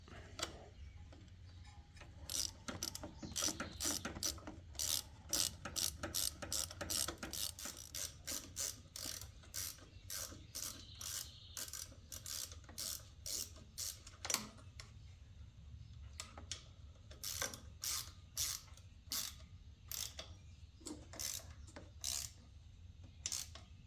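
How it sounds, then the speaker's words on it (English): Socket ratchet tightening a bolt on a Briggs and Stratton engine starter: long runs of quick, close metallic clicks from the pawl, repeated in several bursts with short pauses, with no talk over them. "And take our socket and tighten it up."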